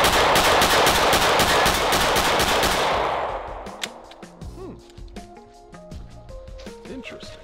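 Pistol shots at an outdoor shooting range, a rapid string of loud cracks for about three seconds, then scattered fainter shots and clicks as the firing trails off.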